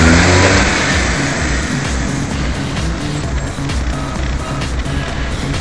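An Opel Corsa pulls away in a sporty start, its engine loud and close as it accelerates, the roar and road noise steady and sustained throughout with no talking over it.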